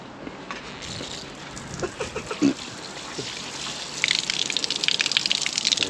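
Newly fitted outdoor shower switched on, water gushing and spraying steadily and growing louder and more hissing toward the end, with brief clanks and handling noises early on.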